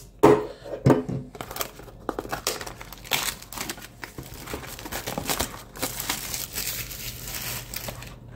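A card blaster box is slit and torn open with an Ontario Rat Zero folding knife, producing crinkling, tearing and crunching of cardboard and wrapper at close range, in uneven bursts.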